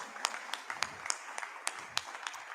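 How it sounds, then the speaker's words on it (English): A live audience applauds after an auction sale closes, scattered individual claps rising to a steady patter of hands, moderately near and fairly quiet throughout. "give yourselves a round of applause"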